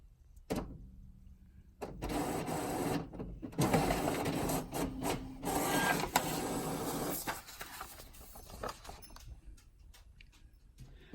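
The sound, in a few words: printer printing a quilt label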